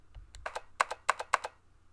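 Short burst of computer keyboard typing in the video game Zero Escape: 999, a quick run of crisp key clicks close up against a quiet background.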